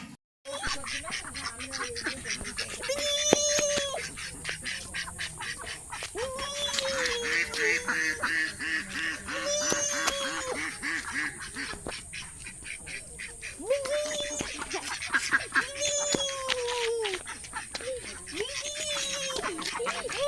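Ducks quack repeatedly near a village home, their calls rising and falling throughout alongside steady background noise.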